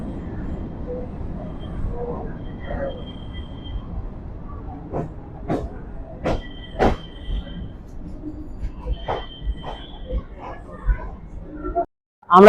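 A Kolkata local train pulls into Barabazar station with a low rumble and a series of sharp clanks and squeals from the wheels, while voices murmur faintly in the background.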